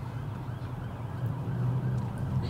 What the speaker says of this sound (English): hear an ambulance.